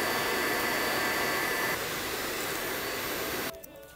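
A hair dryer blows with a steady, airy whooshing hiss, shifting slightly partway through, then cuts off near the end.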